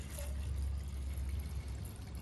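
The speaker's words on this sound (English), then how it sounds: "I need to fill this up with water" Water pouring from a full jug into a bag of okra and cilantro seeds in a garage, a short soft trickle and splash, close and quiet with no talking.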